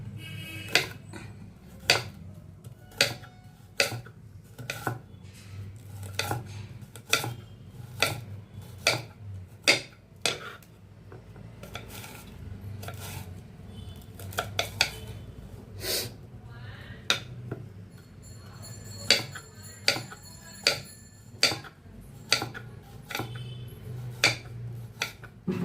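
Karela (bitter gourd) is chopped into small pieces with a knife, sharp isolated taps recurring every second or so at close range, quiet between strikes with faint background hum.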